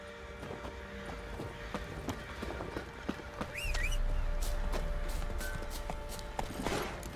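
The Witcher 3 horse Roach walks along, and its hooves clip-clop in a steady, moderately quiet rhythm over a low ambient bed, with a brief whinny-like call partway through.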